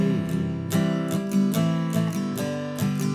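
Acoustic guitar chords strummed in standard tuning in a steady rhythm, each strum ringing out clearly, close and unaccompanied.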